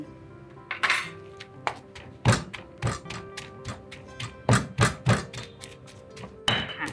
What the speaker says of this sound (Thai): แล้วก็โขลกรวมกัน